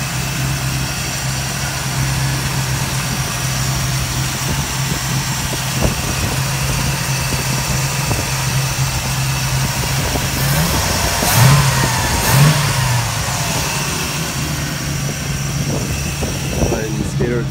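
A 1937 Chevrolet Coupe engine idles steadily with its hood propped open, a low mid-pitched rumble that builds into a couple of brief revs near the end, heard close up.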